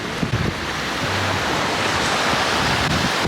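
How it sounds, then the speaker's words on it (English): Ocean surf at a beach in Tulum, a steady close wash of waves mixed with wind rumble, continuous and fairly loud with no voices. "So I'm in the ocean."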